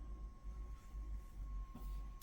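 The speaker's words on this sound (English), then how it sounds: "if you hear some noise in the background," Massage motor of a GarveeHome power recliner chair with heat running, a low steady rumble and faint hum droning on without break, quiet and continuous, no talking.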